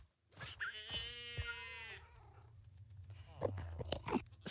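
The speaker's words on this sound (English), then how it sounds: "Is that a screaming goat in here?" Screaming goat in a Minecraft game: a loud, drawn-out bleating scream with a harmonic, wavering tone, followed by quieter crunching and short clicky effects.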